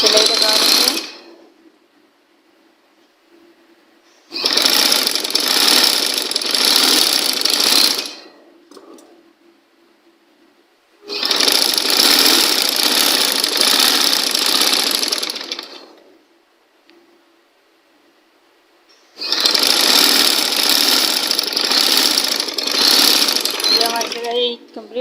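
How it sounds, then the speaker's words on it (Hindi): A sewing machine stitches a folded fabric seam on a kids' tunic top. It runs in three loud, steady mechanical bursts of several seconds each, with quiet pauses between them. "यहाँ पर अब इसको मोड़कर सिलाई लगा लेंगे।"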